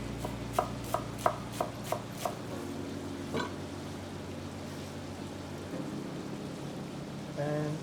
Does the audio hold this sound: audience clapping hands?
no